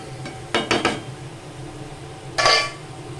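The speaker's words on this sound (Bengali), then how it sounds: "এবার এটা চাপা দিয়ে দেবো।" A metal lid goes onto a cooking pan of pumpkin with black cumin, giving a few close clanks and scrapes in quick succession, then one more rattling clatter as the lid settles, over a low kitchen hum.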